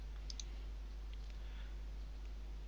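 A computer mouse gives a quick double click, faint and close, against a steady low hum.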